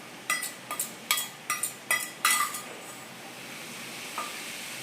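Onions frying in a pan while cooking gravy for a cashew masala dish, with a series of scraping stirs and sharp clinks of a utensil against the pan over a soft, steady sizzle.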